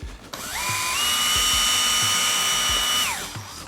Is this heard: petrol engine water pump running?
no